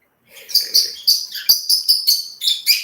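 Three-week-old baby lovebirds chirp during handfeeding, a close, loud run of about ten high, rhythmic chirps in quick succession.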